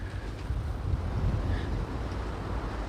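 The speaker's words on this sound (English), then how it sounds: "Ooh, wind is crazy today." Strong outdoor wind buffeting the microphone beside a 1956 Ford F500 truck under repair, a steady loud low roar and rumble throughout.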